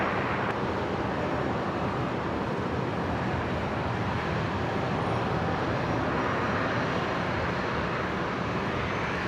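A Virgin airliner departing Brisbane Airport, Virgin 942 bound for Sydney on runway 01 right, roars at full takeoff power as a steady, broad jet rumble mixed with wind noise, unbroken throughout.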